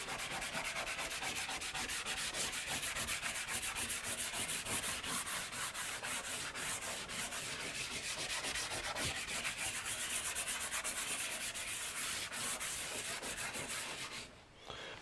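A hand firmly rubs and rolls pastel across paper, a continuous close dry scrubbing hiss with rapid rhythmic strokes that holds steady for about fourteen seconds before stopping abruptly.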